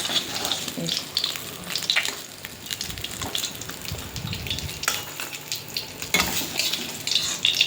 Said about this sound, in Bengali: এবারে তুলে নিয়ে মাছের মাথাটা ভেজে নেব।